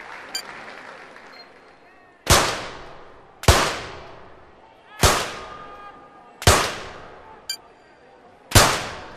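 Five sharp gunshots fired at shooting targets in a London 2012 Olympic video game, spaced about a second or so apart. Each crack is loud and clear with a short ringing tail, and a faint commentary voice sits underneath.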